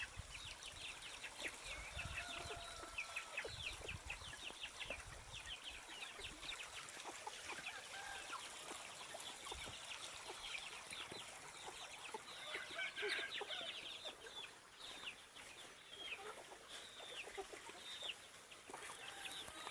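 A flock of chickens clucking and calling steadily while being fed, with dense overlapping clucks and occasional rooster-like calls under continuous outdoor background noise.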